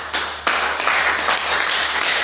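A church congregation bursts into applause for the Lord, a dense wash of clapping from many hands that starts abruptly and keeps up steadily, loud and close, with voices faintly mixed in.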